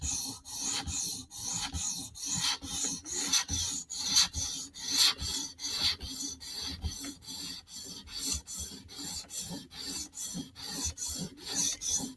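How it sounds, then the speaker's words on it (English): A Mini Arius knife is stroked across a 400 grit sharpening stone in a steady back-and-forth rasp, about two close, scratchy strokes per second repeating evenly throughout with no talking. "Now we're going to jump down to our 400 grit stone."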